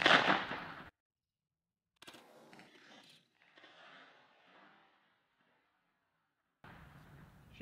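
A Mossberg SA-410 shotgun firing Rogue ammunition at a target outdoors in cold weather, heard as a sharp, loud blast at the start and another at the end, with quieter talking in between.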